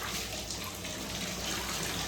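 Water running steadily from a tap in an apartment, a continuous, fairly quiet rushing flow with no change or pauses and no voices.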